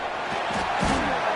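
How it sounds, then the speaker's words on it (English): A Wyoming Cowboys football stadium crowd roars in a dense, sustained wash of cheering, with a few louder whoops rising out of the noise. "This crowd alive to try to help the Cowboys."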